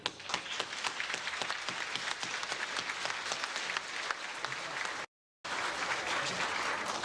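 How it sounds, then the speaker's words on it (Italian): Crowd applause at a community festival Mass and gathering, sustained dense clapping from many people that cuts out abruptly for a moment and then resumes just as steady. "mi faccia un applauso agli altri"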